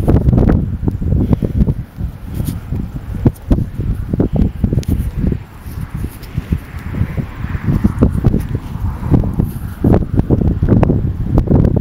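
Strong wind buffets the microphone in loud, rumbling gusts, with rustling throughout and no voices.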